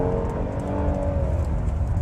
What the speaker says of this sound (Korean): 지금 한번 제가 가속을 한번 해볼게요.